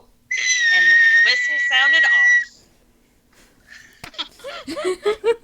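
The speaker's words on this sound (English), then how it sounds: "the whistle sounded off." A sustained, loud whistle is blown at the start of tryouts involving freestanding weighted hoops, a single long blast followed by a brief pause and then voices and laughter.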